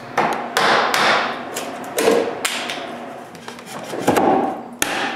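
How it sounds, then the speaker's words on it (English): A chisel is struck into wood to cut joints for a moveable workbench, giving a rapid series of sharp knocks and thuds, close and loud, with brief gaps between blows. "using a chisel instead of a handsaw was easier"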